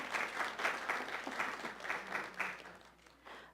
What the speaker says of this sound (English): Can we go ahead and give an applause to our speaker?